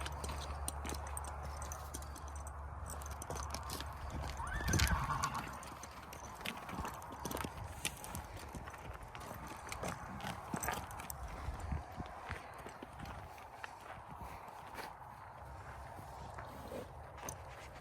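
A horse walks near a hitching rail, hooves clip-clopping in a loose, uneven rhythm at moderate distance, with a brief louder thump and a faint whinny-like tone early on over quiet outdoor background.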